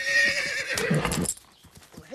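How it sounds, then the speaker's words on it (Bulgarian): A horse gives a loud, close whinny, followed by a few hollow clip-clop hoof beats as the call fades out, with no talk. "Остави коня на мира"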